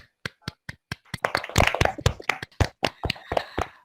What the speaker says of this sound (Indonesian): Beri tepuk tangan dulu untuk perwakilan dari kelompok MOS.